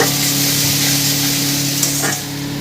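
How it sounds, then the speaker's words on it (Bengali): Spice paste frying in oil for a Bengali fish curry, a loud continuous sizzle with a brief stirring scrape near the end, close up, with no voices. "এবারে কষে নিয়ে আপনাদেরকে দেখাচ্ছি কেমন হয়েছে। ভালো করে কষিয়ে নেবো"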